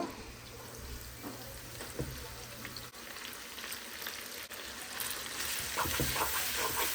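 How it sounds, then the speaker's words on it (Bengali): Noodles sizzling and frying in a hot pan, a steady crackling hiss with occasional stirring scrapes, growing slightly louder toward the end, close by with no voices. "তো এখন আমি এই নুডলসটা দিয়ে দিব।"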